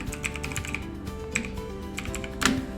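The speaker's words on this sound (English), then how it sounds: "if I'm typing something" Keys clatter on a computer keyboard in quick, uneven bursts of light clicks while text is typed into Microsoft Word, close and clear with a soft steady background hum.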